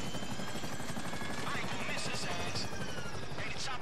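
A helicopter flies in GTA V on PC, its steady loud rotor chop and engine buzz filling the clip continuously up close. Faint voices sit under it.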